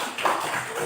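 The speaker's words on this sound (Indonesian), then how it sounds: "Tepuk tangan untuk kelompok C." Classroom applause for group C after a group presentation: a brief, steady burst of many hands clapping together, fairly loud and dense.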